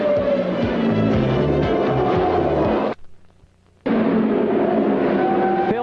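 Race cars thrash around a one-mile oval during the 1978 Rex Mays Classic, a loud, continuous engine roar that drops out for about a second before surging back.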